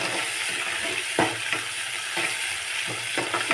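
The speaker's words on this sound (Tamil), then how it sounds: "வெங்காயம் நல்லா ப்ரௌன் கலரில் வதங்கணும்" Loud sizzling of chopped onions and tomatoes sautéing in a pan for egg poriyal, broken by several scraping stirs, with no talking.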